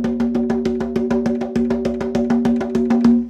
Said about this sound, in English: I'm playing that same shamanic rhythm